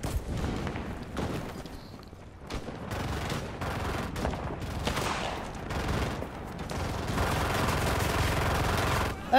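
Bursts of machine gun fire crackle through a Garry's Mod battle, with repeated rapid volleys, some near and some farther off, building to a dense, loud barrage by the end.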